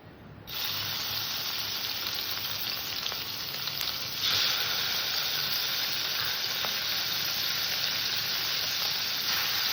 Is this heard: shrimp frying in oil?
yes